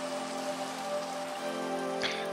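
Rain falling in Minecraft, a constant close hiss of pattering drops over a steady tonal background hum, lasting the whole short stretch without speech.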